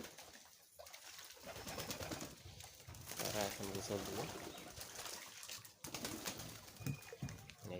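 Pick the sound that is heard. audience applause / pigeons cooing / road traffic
pigeons cooing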